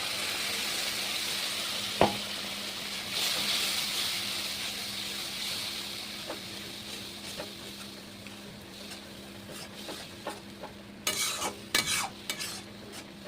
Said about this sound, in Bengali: খুব ভালো করে এই মশলাটা কষাতে হবে